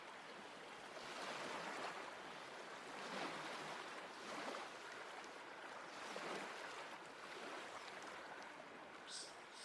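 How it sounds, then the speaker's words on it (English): Watery ambience in the wetlands of Talos Principle 2, a soft rushing wash like surf or flowing water that swells and recedes in slow waves, steady and alone with no voices. "Still sounds like I'm in the water."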